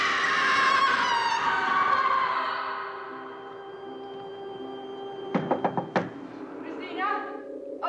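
A door knocked on indoors: a voice speaks at first, then after a pause a quick cluster of three or four sharp knocks sounds close by, followed by a brief faint noise.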